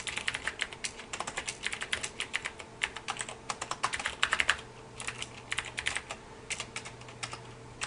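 Steady, rapid keystrokes from someone typing Java code on a computer keyboard, close and clear with irregular bursts of clicking over a low background hum, without any talking.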